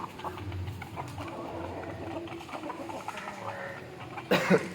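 After a few seconds of quiet ambient noise with faint bird calls, a single short, sharp cough bursts out near the end.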